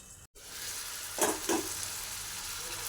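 Beans and carrots sauté in oil over a low flame for poha, giving a steady close sizzle with two brief louder bursts of stirring partway through.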